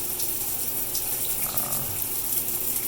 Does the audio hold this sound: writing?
no